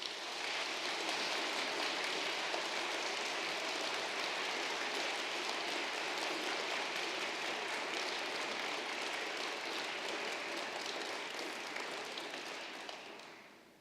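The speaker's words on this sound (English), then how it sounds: "A round of applause, please." Degree ceremony audience in Poole giving a sustained round of applause, a dense, even wash of many hands clapping that holds steady and fades slightly at the end, with no voices over it.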